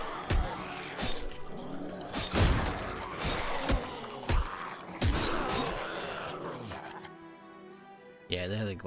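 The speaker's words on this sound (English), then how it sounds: "they had a glass break" Glass shatters in the zombie survival game HumanitZ amid a run of sharp in-game crashes and thuds, loud and close, with a voice talking over parts of it.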